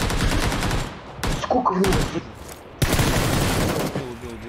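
Bursts of gunfire in PUBG Lite, loud rapid shots in several volleys, with players talking over them.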